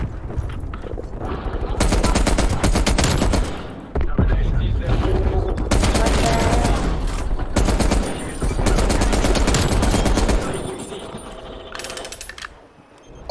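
Sustained bursts of M60 machine gun fire in Call of Duty: Cold War, loud and dense, with short pauses between long automatic strings and a brief lull near the end.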